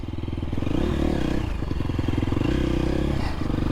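A 2023 KTM 350 SXF dirt bike with a Vortex ECU rides on trails, its engine loud and near, revving up and down repeatedly alongside scraping and clattering from the terrain.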